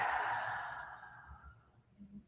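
A long, deep exhalation during a guided breathing exercise, a soft airy rush that fades slowly over about two seconds, heard alone and close.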